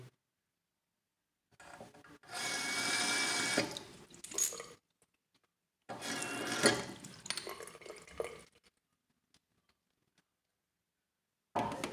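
A shaver head is rinsed under a running tap in two splashing bursts of water of a few seconds each, separated by quiet pauses.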